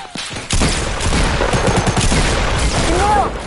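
Rapid, loud video game gunfire, dense overlapping shots and bursts running almost continuously after an opening crack, with a fast whistling sweep near the end.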